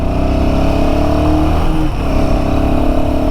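A Royal Enfield Himalayan 450 motorcycle picks up speed on an open road, its engine droning loud and steady with a rising pitch as it accelerates, heard from the rider's position without speech.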